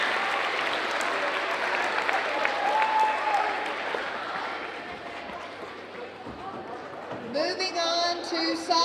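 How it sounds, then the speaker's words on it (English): Middle school awards audience applauds the track team in a sustained, roomy burst that thins out over several seconds before a brief electronic tone and some bright sound cut in at the end. "let's give a round of applause to our track team"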